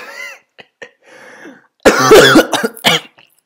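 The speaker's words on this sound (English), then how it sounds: "Don't know why I just coughed there." A person coughs several times in quick succession, a couple of short bursts followed by a louder, rougher cluster of coughs and throat clearing, close to the microphone with no talk.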